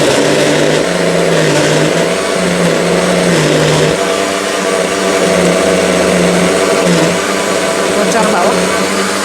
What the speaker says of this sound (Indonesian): Ini langsung di blender ya.